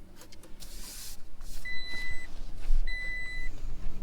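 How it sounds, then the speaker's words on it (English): Warning beeps inside a 2022 Toyota Tacoma cabin: two steady, sustained electronic tones a second apart over low road rumble, moderately loud. "except for that beeping"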